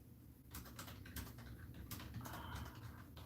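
Computer keyboard keys clatter in quick, uneven bursts while typing in the Mavis Beacon Teaches Typing game, faint and close with no talk.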